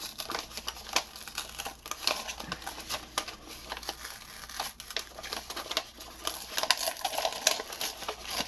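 A paper envelope is pulled apart by hand, its flaps opened out with dense crinkling and soft tearing close by, continuous small rustles and crackles throughout.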